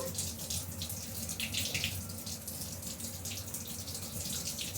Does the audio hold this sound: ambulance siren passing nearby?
no